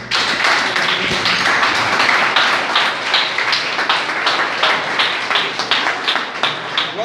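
A church congregation applauds steadily and rhythmically after a baptism certificate is handed over, with dense clapping throughout and a low hum in the hall.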